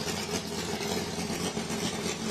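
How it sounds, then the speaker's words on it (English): Race cars idle in the background at a hillclimb starting block while queuing for their runs, a steady, blended engine rumble heard from a distance with no single car standing out. "you can hear in the ambient noise in the background at the starting block, everybody idling as they queue up for their runs"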